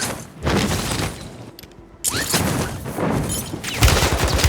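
Close, loud gunfire in the Warzone 3 video game comes in repeated rapid bursts with sharp booms, separated by brief lulls.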